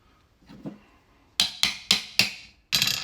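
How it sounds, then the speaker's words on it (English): A rivet is set on a basket hilt bracket for a Plasticsmith Armoury basket hilt: after a few soft taps, four sharp, close metallic hammer strikes land in steady rhythm, then a brief pause and one more strike. "So I'm going to use the hole to set this rivet here."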